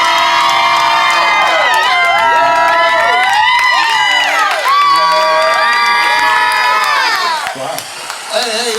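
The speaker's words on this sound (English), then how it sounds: "If you can hear the audience, make some noise." A large live crowd at a podcast's first live event cheers, whoops and shouts loudly and continuously, with high excited voices rising and falling throughout.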